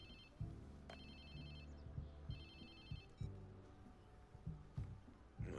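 A phone rings in the video game Watch Dogs 2 with a repeating electronic ringtone of bright, bell-like trills in short bursts, moderately close, over a busier low-pitched game background.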